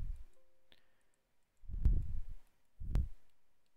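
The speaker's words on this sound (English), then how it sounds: "Buttons are really clicky." Sharp clicks from the buttons of a Corsair Scimitar Pro RGB gaming mouse, a few separate presses spaced apart with short thuds, close and fairly loud against a quiet background with no talk.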